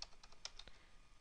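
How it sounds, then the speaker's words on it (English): Fingers type a title on a computer keyboard during software setup on Windows 8.1, a handful of light, quick key clicks heard faintly and close up over a quiet room hiss. "I'm going to type in "Hello World.""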